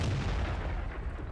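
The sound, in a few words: A-44 tank cannon firing in World of Tanks video game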